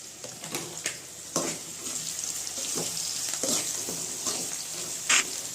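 Onions frying in a pan while preparing fish curry, a steady close sizzle with scattered stirring scrapes and a couple of sharper clinks, no talk.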